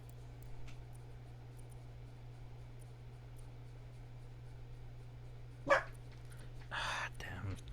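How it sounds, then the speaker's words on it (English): A dog in Mass Effect Andromeda gives a single sharp bark followed a moment later by a short whine, both brief against a quiet, steady background hum. "Ah, damn dog."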